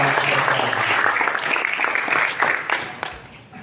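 Crowd applause for 53 young people at a tourism-development speech in Pariaman, steady dense clapping filling the room throughout, fairly loud with no pauses.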